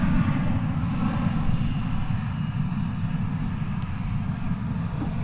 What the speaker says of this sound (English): Lufthansa is coming in on your side, Walt